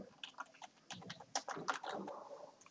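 Clicky, uneven keystrokes on a computer keyboard tap out a short burst of typing, close and fairly quiet, with no talking over it.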